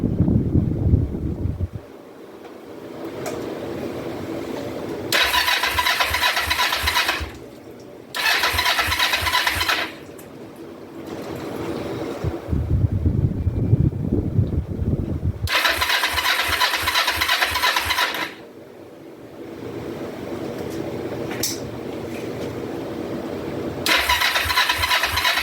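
A 2004 Kawasaki Vulcan 500 motorcycle cranks repeatedly without catching, with several bursts of rapid rhythmic starter chugging separated by pauses, recorded close up with wind buffeting in between.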